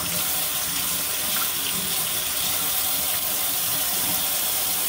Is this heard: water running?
yes